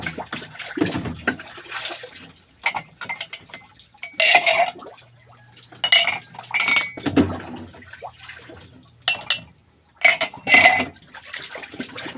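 Plates and cutlery clink and clatter in bursts while dishes are washed with soap, sharp knocks and rattles separated by quiet gaps, fairly close.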